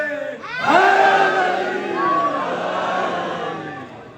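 A crowd at a religious gathering marking the 13 Rajab birth celebration of Ali shouts slogans. One loud voice leads and a massed, echoing response swells and holds before fading.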